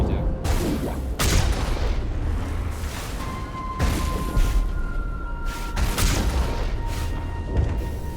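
Heavy cannon shots from the Mako vehicle in Mass Effect Legendary Edition, several sharp booming blasts at irregular intervals over a dense rumbling battle din, with a voice talking underneath.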